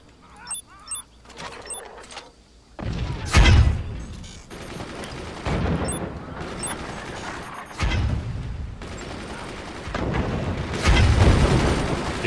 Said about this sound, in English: We got incoming mortars.